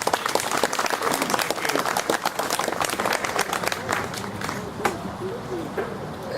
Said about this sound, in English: I want you to give him a round of applause for being with us tonight.